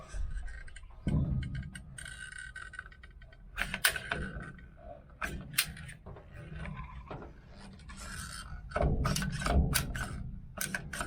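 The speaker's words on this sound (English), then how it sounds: "got some seam sealer in the gun here" A hand-operated seam sealer gun clicks and ratchets in irregular, close-up snaps while sealing the roof of a 1969 Chevy van, with soft handling noises between the clicks.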